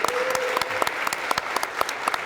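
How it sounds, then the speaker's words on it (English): Audience applause for an office administrator at a homeownership revitalization program lottery event, a steady wash of many hands clapping with sharp individual claps standing out, filling the room for a couple of seconds. "My office admin, Kim Worrell, let's give her a round of applause."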